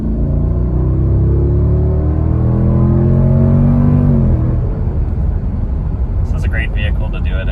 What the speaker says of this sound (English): really powerful, throaty V8 with that AFE intake and the factory exhaust